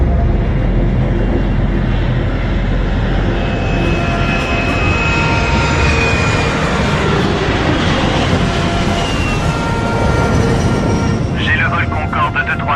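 A Concorde airliner flies overhead in a French film scene, a loud sustained jet roar with a slowly sweeping whine that rises and falls, filling the whole stretch alone.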